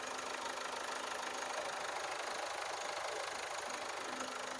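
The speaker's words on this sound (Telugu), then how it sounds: "వెహికల్ అయితే స్టార్ట్ అయితే చేసేసాను" Running after a start, a Ford EcoSport Titanium engine idles with an even, continuous drone at moderate level, unbroken and without voices.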